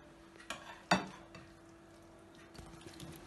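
Sliced potatoes for a potato omelette drop into an egg mixture in a kitchen, giving a soft plop and a brief clatter of utensils, with quiet scraping and stirring afterward.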